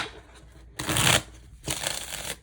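Tarot cards are handled and shuffled close up, with two quick riffling bursts of papery flutter separated by a brief pause, over faint room noise.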